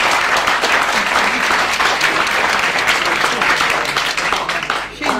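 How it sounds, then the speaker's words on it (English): An audience at a safety briefing breaks into loud, sustained applause, dense clapping that holds steady before tapering off at the end. "I think we should give her a big round of applause for her."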